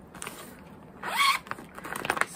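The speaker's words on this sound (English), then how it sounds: "Sorry for the zipper." A clothing zipper is pulled in one quick, close rasp about a second in. Fainter rustling and handling noises come before and after it in a quiet room, with no talking.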